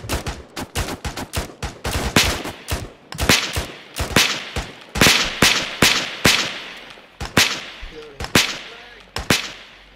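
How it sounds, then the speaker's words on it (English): A squad fires rifles in a military video game, ten rounds each, producing a dense, irregular barrage of sharp, loud gunshots that overlap and echo for the full ten seconds, thinning slightly toward the end. "fire 10 rounds each"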